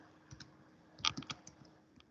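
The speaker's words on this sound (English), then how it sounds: "Oh, my typing is terrible." Typing on a computer keyboard, a few scattered key clicks followed by a quick burst of several keystrokes, close and crisp against a quiet background with no speech.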